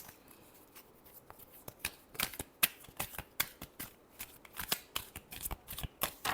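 Tarot cards are shuffled in a rapid series of crisp riffling flicks and slaps, close and fairly quiet, with no voices.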